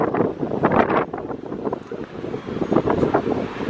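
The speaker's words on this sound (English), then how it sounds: "This wind is gonna kill me today." Strong outdoor wind buffets the microphone at a truck meet beside a lifted 2021 Chevrolet Silverado, a loud continuous rumbling roar that swells and dips in gusts, with no speech.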